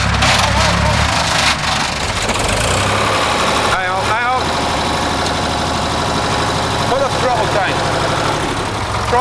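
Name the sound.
tractor engine running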